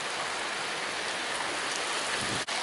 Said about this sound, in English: Well, we're finally getting our rain.